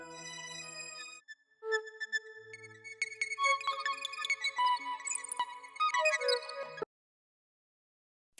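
Granulized flute samples processed with the Portal Light and Dark preset, producing bright, shimmering tonal chirps and sustained pitches that build into a busy, glittering texture before cutting off abruptly.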